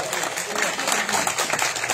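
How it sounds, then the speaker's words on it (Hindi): Audience clapping at a Bhairo Baba jagran in Hanumangarh, a dense, steady patter of many hands filling the space at close range, with voices mixed into the noise. "दिल से दोनों हाथ उठाकर तालियां बजाएं"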